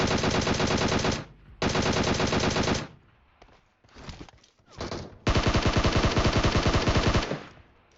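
Automatic gunfire in PUBG Mobile, fired from atop a container, comes in long, loud rapid bursts with brief gaps and scattered shots between them.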